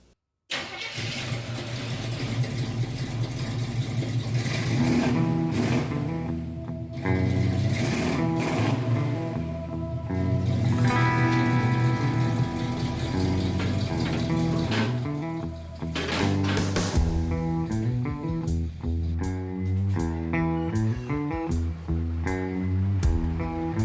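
A car engine cranks and sputters repeatedly, catching briefly and faltering in uneven, rough bursts, loud and close, with no talking.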